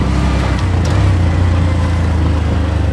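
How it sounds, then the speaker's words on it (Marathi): An auto rickshaw drives in through the entry gate of an agro-tourism farm in Palghar, its small engine a steady, close, rumbling drone that holds evenly for the whole stretch. "रिक्षा आतमध्येच चालली आहे"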